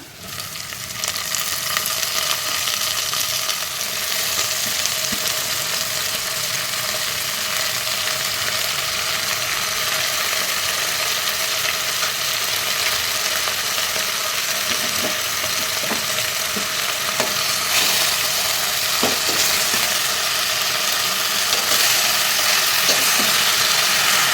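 Amaranth leaves and onions frying in a pan, a steady broadband sizzle that holds for the whole stretch with occasional stirring clicks, close and fairly loud, no talking.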